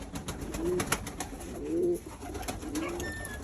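Pigeons coo inside a coop, three soft rising coos spaced about a second apart over a dull room-like background, fairly close and unaccompanied by speech.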